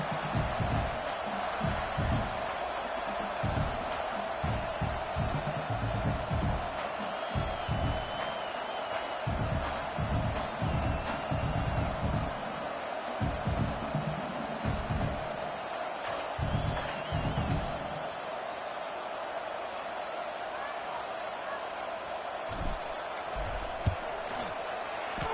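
Stadium crowd in a college football video game before a field goal attempt, a steady, loud, murmuring roar with scattered cheers and claps, thinning slightly toward the end, with a brief thud near the close.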